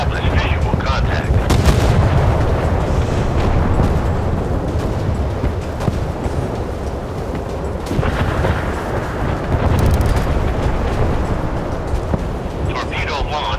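Missiles launch and strike targets in the warship game Force of Warships, with loud booming blasts and rumbling explosions layered over dense continuous battle noise, while a game voice calls out commands.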